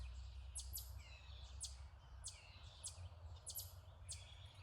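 Small birds chirp in short repeated bursts at a distance over a steady low rumble of outdoor background noise.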